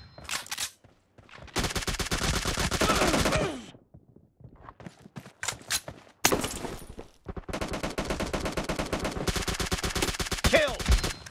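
Rapid automatic gunfire from PUBG Mobile Domination mode, long loud bursts of shots separated by brief pauses, with faint voice sounds mixed in.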